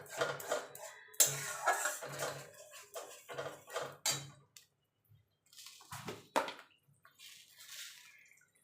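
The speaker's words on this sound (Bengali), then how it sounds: "টক দইটা দিয়ে কিন্তু সঙ্গে সঙ্গে কিন্তু নাড়তে হবে, আর গ্যাসটা একদম লোতে রাখতে হবে" A spoon stirring sour yogurt into a vegetarian gathi kochu curry in a pot over low gas, giving a run of irregular clinks, scrapes and wet squelches up close, with short pauses between strokes.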